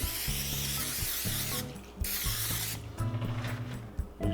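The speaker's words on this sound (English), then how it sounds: "And just to prevent sticking, I'm going to spray down our basket." Cooking spray hisses onto the basket of an Emeril Lagasse Power Air Fryer 360 before fresh-cut fries go in, in several short close bursts over steady low background music.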